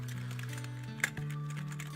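Keys on a Tigoes K9 LED USB keyboard are pressed in a few quiet clicks, with one sharper tap standing out against a steady low hum.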